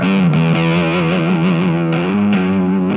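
A distorted electric guitar plays sustained, gliding notes through an effects pedal, with a washy reverb tail and a slight chorus shimmer.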